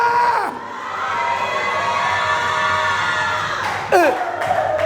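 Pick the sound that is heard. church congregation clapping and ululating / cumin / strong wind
church congregation clapping and ululating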